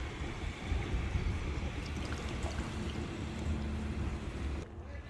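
Continuous low rushing gush of an RV black water tank draining through a hose, steady and close for several seconds before cutting back slightly at the end, with no voices.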